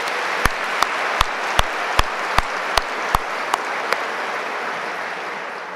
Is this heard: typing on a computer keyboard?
no